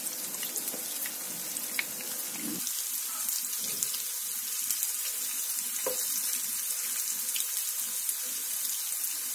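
Small bitter gourds frying in oil, a steady close hiss and crackle of sizzling with scattered sharper pops throughout.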